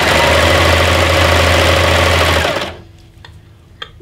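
A serger stitching a rolled hem along the edge of a cleaning towel, running in a steady loud mechanical whir for over two seconds before stopping, leaving a quiet room with a couple of faint clicks.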